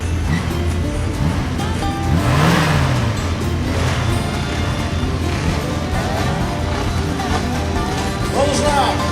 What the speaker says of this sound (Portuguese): Motores fazendo barulho.